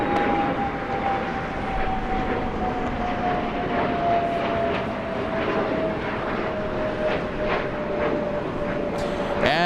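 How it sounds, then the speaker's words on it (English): A FedEx Boeing 767-300 freighter arrives at LAX with a loud, steady jet roar and a slowly falling whine, continuous and close throughout, with no talk. "FedEx Freighter coming in."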